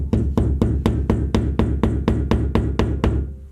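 A hammer gently taps a wall anchor into a wall, about a dozen sharp, evenly spaced knocks in a steady rhythm, close and fairly loud.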